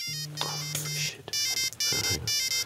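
A mobile phone ringtone sounds during a news podcast recording, a sustained electronic melody with a steady tone that cuts off, followed by bursts of further chiming notes mixed with brief noise.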